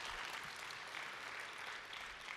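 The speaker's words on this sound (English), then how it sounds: "another round of applause for him" An audience at a keynote for an Agile conference gives another round of applause, heard as a steady wash of clapping throughout, fairly faint and far off.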